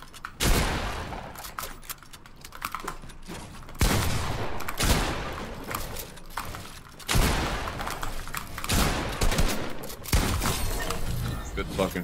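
Fortnite gunfire from a solo Cash Cup match crack out in several sharp bursts, with shotgun blasts and rapid shots spread across the stretch under a player's voice chatter.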